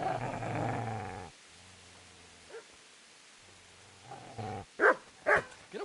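A dog in the medieval video game Kingdom Come growls low and rumbling, then falls quiet before a few sharper, louder snarls and barks up close.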